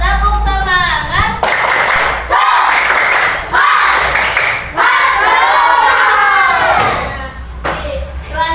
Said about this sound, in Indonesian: Biar tambah semangat kita tepuk semangat bersama-sama.